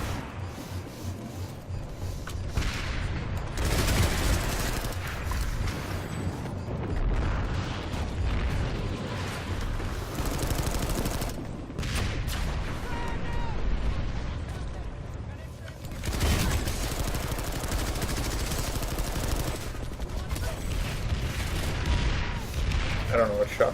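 Video game gunfire crackles in bursts amid a busy battle soundscape, with shots and impacts mixed over continuous background noise at moderate volume.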